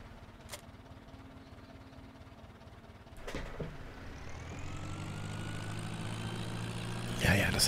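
A tractor engine runs in Farming Simulator 17, a low, steady idle that steps up in loudness after a sharp clunk midway and keeps droning, with a brief louder burst near the end.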